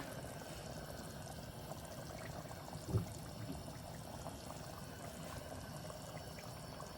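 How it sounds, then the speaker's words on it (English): Milk being poured into a long-simmered bolognese sauce, a faint steady trickle with one brief louder splash partway through and no talking. "so we're adding milk"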